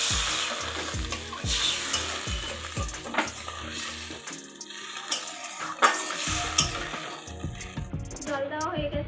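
Chapila fish curry fries in a pan with stirring clatter, then water is poured in and a sharp, bubbling sizzle bursts up and settles into a dense crackling hiss, close and loud.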